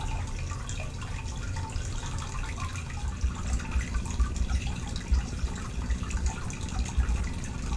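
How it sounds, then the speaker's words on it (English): Running water splashes and trickles over small metal-detecting finds being rinsed off, a continuous close wash with faint clinks and drips, no talking. "Let me wash these off a little more"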